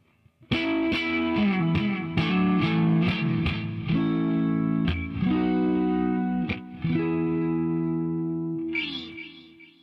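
A clean Fender Stratocaster electric guitar through a Hughes & Kettner Coreblade amp simulation plays a lively melodic line of plucked notes and chords, bright and close, with a light effect-laden shimmer.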